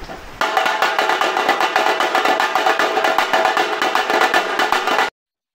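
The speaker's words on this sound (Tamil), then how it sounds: "அதுக்கப்புறம் இந்த சைட் வந்தீங்கன்னா இதான் சட்டி." A chatti, a clay pot percussion instrument from a Tappu Melam folk ensemble, is struck in rapid, steady repeated hits for about five seconds, loud and close, before cutting off abruptly.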